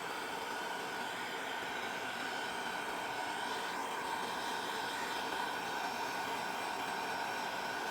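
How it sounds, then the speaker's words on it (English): A heat gun blows hot air onto an iPhone 6s to loosen its glue, making a faint, steady hiss that continues unchanged with no talk. "and then use a heat gun."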